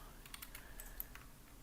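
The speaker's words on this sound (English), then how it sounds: "hold control and upper arrow button on the keyboard" Computer keys are pressed in a quick, quiet cluster, with the control and up arrow keys tapped repeatedly in a soft rhythm of light clicks close by.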